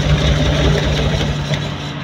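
A Suzuki Multicab engine idles with one spark plug wire pulled, a low, even rumble and a constant hum, running alone at close range without speech.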